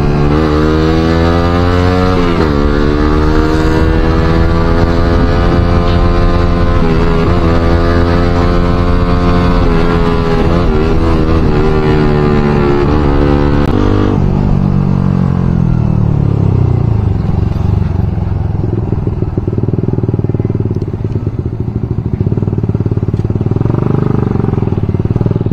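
A motorcycle engine with a refibered exhaust muffler runs continuously up close, a loud, throaty drone that holds steady, rises in pitch, then drops back to a lower rumbling idle.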